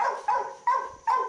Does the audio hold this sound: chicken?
no